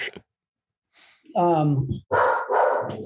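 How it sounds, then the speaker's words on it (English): Dogs barking at a UPS delivery arrival at a home, several loud close barks and yelps in bursts with short gaps. "Dogs. Hey, now UPS is here."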